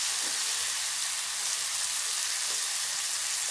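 Tomatoes frying in a pan for a Telugu coriander tempering dish: a steady, even sizzle with hiss that continues without a break and has no voices over it.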